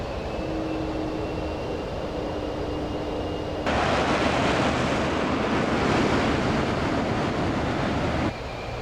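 An Avro Vulcan bomber's engine howl in a video game: a sudden loud, broad roaring rush swells in over a quieter hum as it flies low and fast, holds steady for several seconds, then cuts back down.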